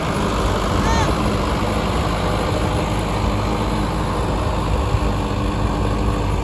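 Tractor running a Dasmesh super seeder in a field, giving a loud, continuous rumbling drone that stays constant throughout.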